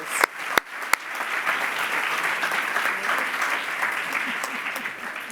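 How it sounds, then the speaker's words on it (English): Graduation ceremony audience applauding the faculty, a sustained even round of clapping from a large hall crowd, opened by a few sharp, distinct claps. "we would like to say a sincere thanks to all of our faculty, who I'm sure you all want to give a huge round of applause"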